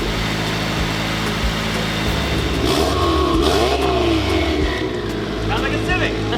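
A Mazda RX-7 engine revs up and down under load in a build project car, mid-pitched engine tone rising and falling through the clip, fairly close and loud, with some background noise.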